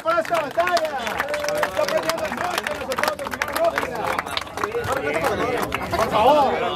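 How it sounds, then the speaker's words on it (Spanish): A crowd at a Spanish-language rap battle claps and cheers continuously, a dense mix of hand claps and voices that swells near the end. "¡Navas, hey, un fuerte aplauso acá para esta batalla!"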